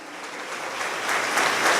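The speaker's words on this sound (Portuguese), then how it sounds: "Aplauda com toda alegria" A church congregation applauds during a worship service, a dense, steady wash of many hands clapping that swells gradually louder over a couple of seconds.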